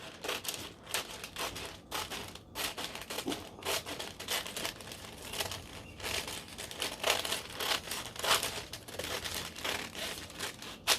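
Scissors cutting paper along a marker line to make a cake pan liner, a run of crisp rustling snips and crinkles in an irregular rhythm, close and fairly quiet, with no talk.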